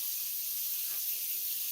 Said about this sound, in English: I'm going to wash my hands because I did a raw chicken.